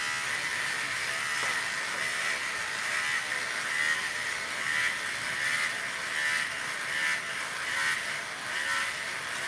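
Electric clippers shave a head with a steady, close buzzing whir that runs without a break and rises and falls slightly as the blades move across the scalp.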